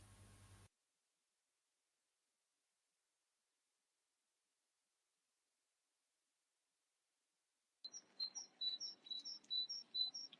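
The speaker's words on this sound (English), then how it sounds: "I like this sound of birds singing and the dog barking" Birds chirp in a quick series of bright, repeated tweets outdoors, fairly faint, after a long stretch of silence, with a soft hiss of background air.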